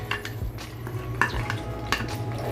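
Onion paste hits hot olive oil for a Mughlai chicken handi and is stirred, a moderate sizzle broken by scraping strokes and a couple of bright clinks of spoon on pot, with no one talking.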